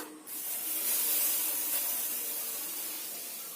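Palm pulp hits a hot kadai with a sudden burst of loud, steady sizzling hiss that holds for several seconds and eases only slightly.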